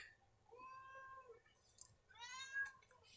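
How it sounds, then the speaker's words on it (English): A cat meows twice, soft and somewhat distant, with a first drawn-out call followed by a second, higher meow after a short pause, over a quiet background. "Do you hear that cat?"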